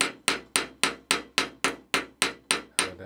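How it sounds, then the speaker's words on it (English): Sharp metallic hammer taps on the end of a rivet held in a vise, at a steady, even rhythm, about a dozen blows in quick succession, close and clear with no talking. "I just gently bang over this end of the rivet."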